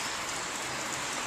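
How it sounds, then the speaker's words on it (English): Steady rain falls in a dense, even hiss of drops on a surface, with no speech. "Still raining."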